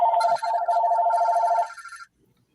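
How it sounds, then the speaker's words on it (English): A phone rings with a bright, pulsing electronic tone for about two seconds, close and clear before cutting off into quiet. "as I get a phone call"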